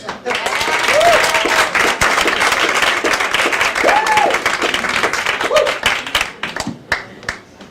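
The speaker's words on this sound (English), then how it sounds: "Please make a big round of applause for" Audience applause and clapping fill a comedy club at Gotham Comedy Club as a comedian is introduced, loud and steady throughout, with an announcer's voice briefly heard over it.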